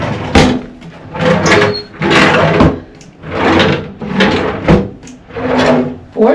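Cabinet drawers in a cruise ship grand suite aboard Enchantment of the Seas slide open and shut over and over, a steady run of loud, close wooden rumbles and knocks with no voices.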